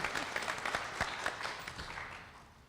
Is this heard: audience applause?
yes